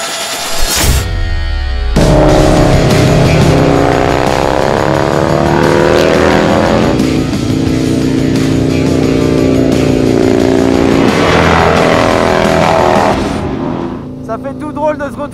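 King of the Baggers racing motorcycle ridden hard, engine roaring up through the gears in loud continuous pulls after a brief start, fading near the end, with a rider speaking over the engine.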